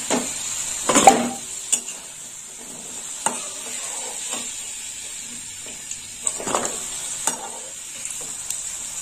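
Potatoes sizzle gently in oil in a pan, a steady low hiss broken by several sharp clinks and scrapes of a spatula against the metal.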